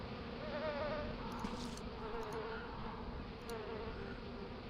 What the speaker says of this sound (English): once they get a queen, they get bees and whatnot